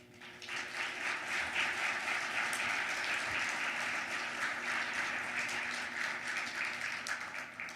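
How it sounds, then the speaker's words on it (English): An audience applauds graduate students at a graduate studies faculty celebration, sustained dense clapping from a sizeable crowd that rises quickly and holds steady for several seconds without voices. "Let's give a big round of applause to these amazing students."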